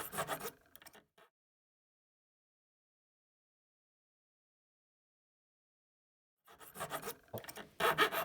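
A triangle file works guitar fret wire in short, quick, close rasping strokes at the start, then a long silence, then another run of scraping strokes near the end.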